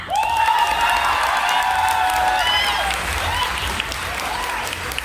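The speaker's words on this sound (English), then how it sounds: "so by applause, whoever thinks that Yusuke's painting is just super weird, applaud now" A crowd applauds steadily for the whole stretch at an anime convention panel, a dense, even clatter of many hands with a few voices mixed in.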